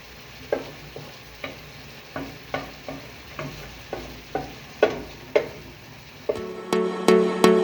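Garlic frying in oil in a pan, a soft continuous sizzle punctuated by regular spoon taps and stirring scrapes about every half second, turning louder and crackling near the end.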